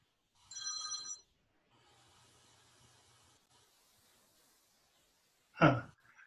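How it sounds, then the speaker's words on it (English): A telephone rings once in a short electronic trill, heard clearly against a quiet room, followed by faint hiss and a sharp close bump. "Okay, that's phone call."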